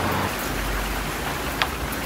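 Steady rain falls as a dense, even hiss throughout, with a brief sharp tap partway through and no voices.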